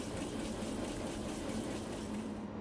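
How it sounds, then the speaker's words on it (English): Water running steadily into a sink and draining in a handwashing unit, a loud constant close rush of water lasting throughout and cutting off abruptly at the end, with no voices. "Ensure that the sink is functioning and draining correctly."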